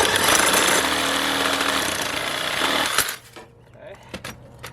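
A 2.5 inch piece of PVC pipe is cut with a harsh, loud, grinding rasp for about three seconds, which stops abruptly and is followed by quieter clicks and handling knocks.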